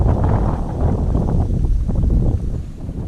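Strong wind gusting across an open fishing lake, a dense continuous roar buffeting the microphone, loud and close throughout, with no voices.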